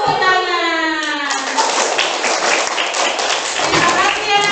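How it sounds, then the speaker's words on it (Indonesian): A group of children in a classroom clap their hands together in a lively, continuous patter after a short spoken or sung phrase, loud and close, with a few voices mixed in. "Tepuk tangan."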